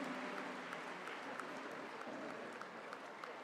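Applause rises from the audience at a felicitation ceremony for Shri Arjun Ram Meghwal during the Global Spirituality Mahotsav 2024, a steady dense wash of clapping lasting throughout at a moderate level.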